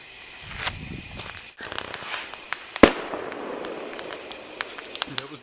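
Fireworks on the Fourth of July crackle and burst close by, with a sharp loud bang partway through, scattered crackles and pops around it, and a few faint voices in the background.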